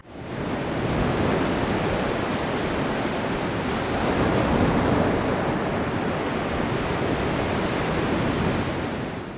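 Ocean waves and surf wash in as a steady, broad roar, close and fairly loud, swelling slightly midway, with no voices.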